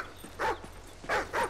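The dog Riley barks in Call of Duty Ghosts: three sharp, fairly close barks, one alone and then a quick pair, with a low rumble underneath and no talk.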